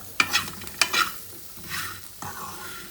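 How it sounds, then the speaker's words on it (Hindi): Crispy corn is tossed and mixed in a hot pan on the stove, with a few sharp scraping clatters followed by softer sizzling stirs. The sounds are close and no one speaks. "बस 1 मिनट के लिए हम लोगों ने इसको मिक्स करना है गरम गरम"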